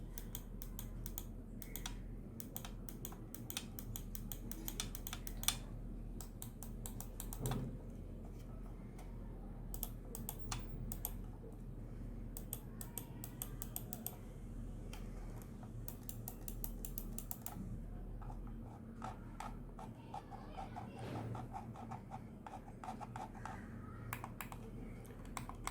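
Clicks of an Ant Esports GM50 gaming mouse, a long run of sharp, quiet, close clicks in irregular bursts and rapid clusters over a faint low hum, no talking.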